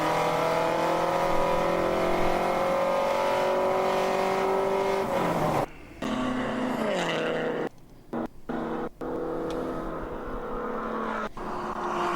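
An endurance race car at Daytona roars along the back straightaway at the ChampCar 14-hour race, its engine holding a loud, steady high-rpm drone. Partway through, the note breaks into brief cuts and shifts as the car passes and works through traffic.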